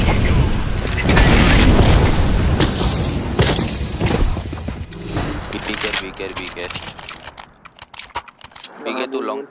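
A flashbang grenade detonates in Counter-Strike 2 amid loud, busy game audio: dense crashes and clattering for several seconds, thinning toward a quieter end with a high thin tone.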